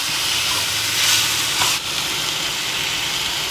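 Thokku cooking in a pan with chili powder, salt and turmeric added gives a steady, close hissing sizzle that holds evenly throughout, with a brief dip partway, and no talking.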